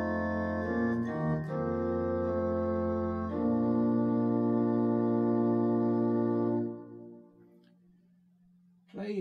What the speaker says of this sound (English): Played against the Grobgedacht on the Oberwerk and adding the tremulant, you can really hear the sesquialtera singing away.